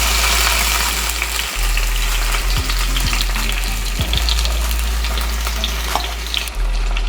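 Tomatoes fry in hot oil in a pan over a low flame, a loud, steady crackling sizzle close to the mic with occasional clinks of a utensil stirring, and no talk.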